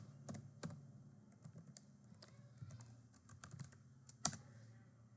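Scattered keystrokes on a computer keyboard as a Linux command is entered in a terminal, irregular close-up clicks with a few sharper taps and one loud strike near the end, no speech.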